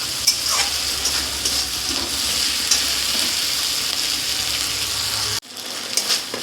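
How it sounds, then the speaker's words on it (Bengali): A ground paste of ginger, garlic and green chili fries with onions in a pan, giving a loud, steady sizzle and crackle that cuts off abruptly near the end, then resumes more quietly. "এবার দিয়ে দেবো এই যে আদা রসুন আর লঙ্কা বেটে রেখেছিলাম, এই বাটাটা"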